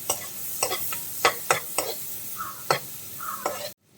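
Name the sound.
onions sautéing in melted butter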